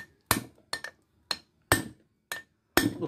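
Sharp hammer blows striking a chisel cutting hard varnish on a generator rotor armature, six or seven irregular metallic knocks with brief ringing, close by, with quiet pauses between strikes.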